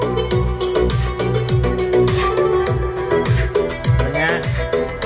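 Music plays through a GTS-1345 TWS mini Bluetooth amplifier speaker, steady and loud, with a thumping, punchy beat and layered melody running continuously without talk.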